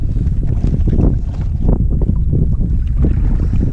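Strong wind blows off Waldo Lake in Oregon during a canoe trip, a steady loud rumbling roar buffeting the microphone throughout, with no talking.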